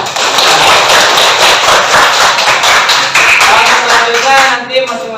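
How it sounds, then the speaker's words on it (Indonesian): Applause from a classroom of students: dense, steady clapping that fills about five seconds at close range, then thins out and fades near the end. "tepuk tangan dulu untuk kita semua."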